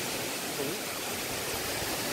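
Strong wind rushes steadily through trees in a rural village, a dense, continuous roar at close range with no breaks.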